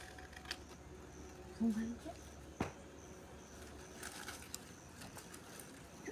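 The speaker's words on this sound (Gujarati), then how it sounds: "બગીચામાં જુઓ પક્ષી છે બધા ચૂંટ ખાય છે" A bird coos briefly among soft outdoor ambience in a temple garden where birds are pecking, with faint scattered taps and distant sounds around it.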